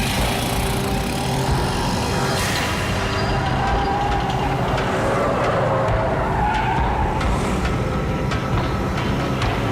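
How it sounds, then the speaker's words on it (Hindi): A car races in and skids to a stop in an action movie scene, a loud continuous engine roar with tire screech filling the whole stretch, no voices. "भाई की गाड़ी आ गई।"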